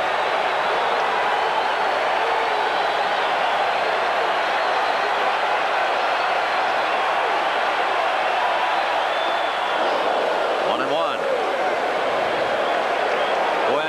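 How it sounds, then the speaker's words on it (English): Roaring stadium crowd at the 1986 World Series Game 2 between the Boston Red Sox and New York Mets at Shea Stadium, a dense, steady wall of cheering and applause that holds loud throughout. "if you like crowd noise, if it does something to you, you come to the right place and at the right time"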